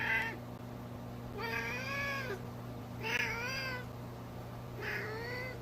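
A cat meows three times in slow succession, with long drawn-out calls spaced a second or so apart, close and fairly loud over a steady low electrical hum, with no talking.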